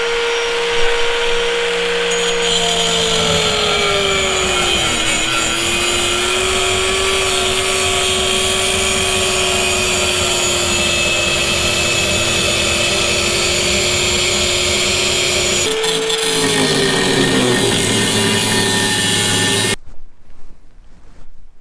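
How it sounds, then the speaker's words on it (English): Angle grinder cutting metal, a loud continuous high-pitched whine that dips and rises in pitch as the disc bites, running steadily for about twenty seconds before stopping abruptly. "So we're going to angle grind this."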